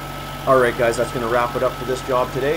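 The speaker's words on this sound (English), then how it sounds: "You can hear the trucks running good in the background here." A truck with a Series 60 Detroit Diesel engine idles steadily in the background, a low continuous hum beneath someone talking close by.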